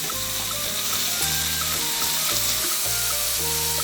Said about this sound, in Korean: 팬에 삼겹 300g을 넣어서 앞뒤 노릇하게 구워줍니다